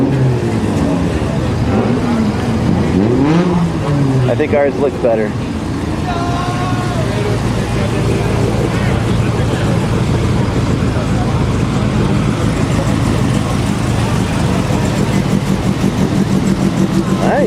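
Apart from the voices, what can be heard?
derby car engine revving at 24 Hours of Lemons race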